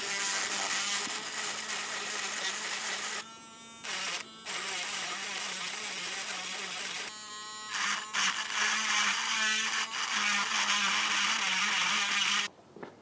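An electric engraver marks numbers onto parts of an old rusty engine being rebuilt. It gives a steady, close, high buzzing that runs almost continuously and breaks off briefly a few times.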